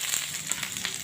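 Okra sizzling as it fries in a pan, a steady soft crackle and hiss with faint pops, fairly quiet and close, no voices.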